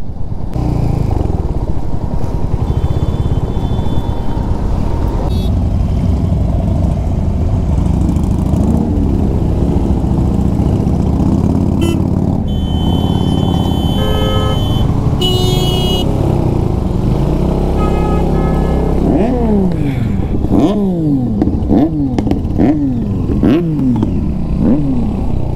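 A motorcycle rides a ghat road near Lonavala on the way to Kamshet, its engine droning loud and close throughout, then rising and falling in repeated revs as it climbs and shifts toward the end.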